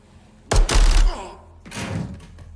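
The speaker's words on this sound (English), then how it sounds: "he made the exact sound of hitting that grate" In a Modern Warfare 2 match, a body falls onto a metal grate: a heavy metallic thud lands, rattles briefly, and a second duller impact follows about a second later.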